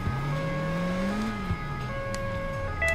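Car engine in the Xbox 360 driving game Crash Time, steady revving hum that dips as the car brakes and rises again while reversing, with a brief higher tone near the end, no voices.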